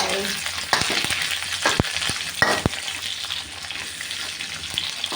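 Tofu dropped into hot oil in a pan, with bean sprouts also mentioned, sizzling and frying steadily while a utensil scrapes and clacks a few times in a close, busy burst of kitchen noise, no talk.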